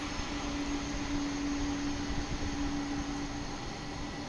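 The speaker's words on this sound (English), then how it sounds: "This is going to be a 30-year-old MD-11" A 30-year-old MD-11 jet airliner at DFW airport gives a steady, distant engine roar with a faint tonal whine, moderately quiet and unbroken throughout.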